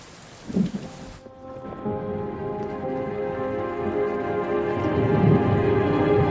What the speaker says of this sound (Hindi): बारिश बहुत तेज हो रही है।